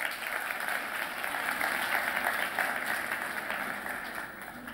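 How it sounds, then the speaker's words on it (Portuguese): Applause from an audience welcoming a speaker to the stage at a talk, a steady, moderately distant wash of many hands clapping that holds evenly and tapers slightly at the end. "vamos recebê-lo com uma salva de palmas"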